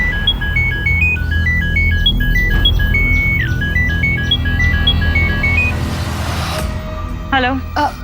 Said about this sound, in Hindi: भाभी फोन क्यों नहीं उठा रही मेरा?